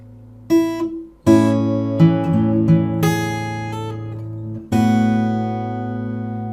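An acoustic guitar strums a few ringing chords, switching between two shapes and letting the last one sustain and fade.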